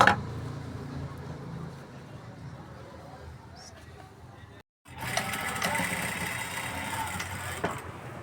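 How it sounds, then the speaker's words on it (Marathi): A sewing machine stitches a fabric strip onto the back of a beadwork blouse, giving a steady mechanical whir that drops out for a brief pause midway and then resumes louder. "म्हणून मी त्याचं कपड्याची एक स्ट्रिप तयार केली, त्याला मध्ये स्टिच केली."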